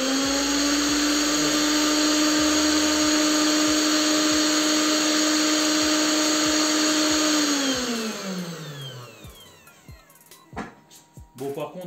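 A 500W CNC spindle motor fitted with an ER11 collet runs at full speed with a loud, steady high-pitched whine, then spins down with a falling tone to near quiet. No one speaks.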